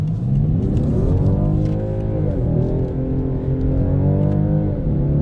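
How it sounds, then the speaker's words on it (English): A 2019 BMW 8 Series 840d xDrive diesel engine, tuned for a sportier note, hums steadily and fully from inside the car while driving, its pitch rising and dipping through gear changes with no talking over it. "as you can hear, they clearly did something to this engine sound wise"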